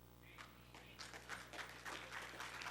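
A church congregation breaks into applause, scattered claps that build into steady, moderately loud clapping over a low background hum.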